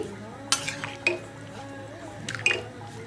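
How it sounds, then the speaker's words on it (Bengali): Soaked tamarind water poured into a cooking pot of elephant apple chutney and stirred in, with a few clinks of a spoon against the metal pot over faint liquid drips and stirring. "আমি এখানে স্বাদ মতো তেঁতুল জলে ভিজিয়ে গুলিয়ে রেখেছি এখন দিয়ে দিচ্ছি ভালোভাবে মিশিয়ে নিচ্ছি"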